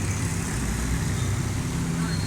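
A 2006 Suzuki Cultus engine idles around 850 to 1000 RPM with a steady, even hum. It runs unbroken throughout, close and moderately loud, with a nearby voice talking over it.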